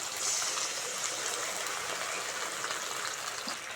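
A little water is poured into ginger garlic paste in a pan while cooking a village-style banana stem recipe, a brief steady close trickle and sizzle with no talk.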